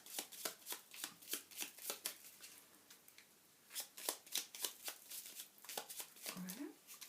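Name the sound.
shuffling and cutting tarot cards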